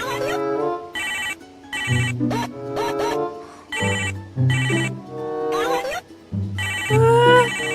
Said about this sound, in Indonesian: Kak Rika cari tahu dulu ya itu suara handphone siapa.